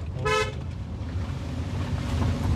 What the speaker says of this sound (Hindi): हॉर्न देना